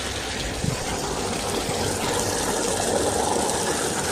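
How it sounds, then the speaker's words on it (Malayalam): Backwash water from a twin-cylinder gravity water filter rushing out in a steady, dense gushing flow, loud and continuous without pause. "ഏകദേശം നമ്മൾ ഈ ബാക്ക് വാഷിന് കയറ്റിയ വെള്ളമാണ് ഇപ്പോൾ തിരിച്ച് വന്നുകൊണ്ടിരിക്കുന്നത്"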